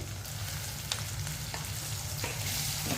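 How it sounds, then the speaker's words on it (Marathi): Onion and chopped tomato fry in hot oil for a spicy brinjal and dried bombil vegetable dish, making a dense, close sizzle with a few light knocks of stirring. "तेल छान तापल्यानंतर मी त्याच्यामध्ये घातलेला आहे कांदा कांदा छान परतून घ्यायचा आहे"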